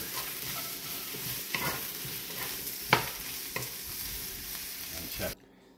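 Steady sizzling of carrots, potato and green bell pepper frying in hot oil, with occasional scraping stirs of a utensil against the pan, ending abruptly.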